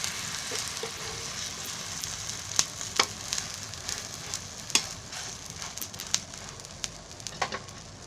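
A wheat pancake fries in oil on a griddle with a steady, quiet sizzle and crackle, broken by occasional sharper pops and spits, close and without talk.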